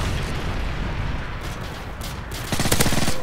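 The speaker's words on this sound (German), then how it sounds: "schwere Schüsse" Heavy automatic gunfire in Call of Duty: Modern Warfare 3 multiplayer rattles in continuous bursts over a dense battle din, growing louder and sharper near the end.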